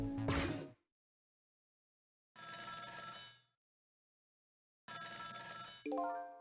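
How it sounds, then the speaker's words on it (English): An in-game telephone rings in Ghost Trick: Phantom Detective, sounding as three separate bursts of bright electronic ringing with silent gaps between them. No one speaks. "Telephone is ringing."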